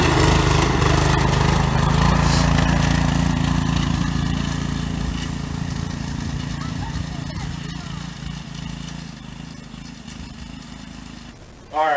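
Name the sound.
Polaris four-wheeler with Predator 212 engine running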